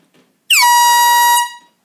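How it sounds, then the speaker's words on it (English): A small handheld party air horn lets out one loud, piercing, close blast lasting about a second that starts abruptly and tapers off at the end. "This is a little mini air horn I got from Party City."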